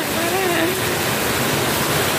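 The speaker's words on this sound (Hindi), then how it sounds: "बारिश बहुत तेज आ गई है" Steady, dense broadband hiss of heavy rain pouring without pause, with a faint tonal voice-like trace briefly rising over it near the start.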